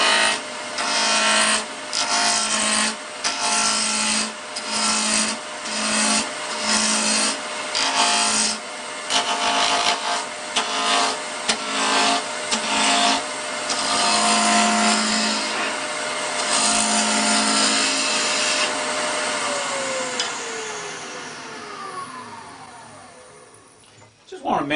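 A small wood spindle held between centers spins at high speed on a lathe, a steady whining hum with repeated rough rubbing and scraping bursts as the tool cuts, tapering off as the lathe winds down near the end; a voice talks over parts of it.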